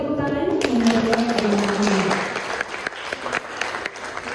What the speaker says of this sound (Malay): Boleh diberikan tepuk tangan?